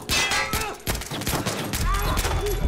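Gunfire in the stealth shooter Splinter Cell: Blacklist, a dense run of sharp shots and bursts filling most of the moment, close and loud, with players talking over it.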